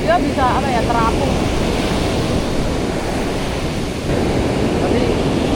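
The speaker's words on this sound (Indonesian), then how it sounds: "Ombaknya gede." Big ocean waves break and surge on a Bali beach in a continuous loud wash of surf, with wind buffeting the microphone and a brief voice near the start.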